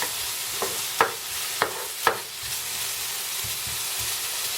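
Steady, soft hiss of bacon frying in a pan, with a few sharp crackles and pops near the start; no voices.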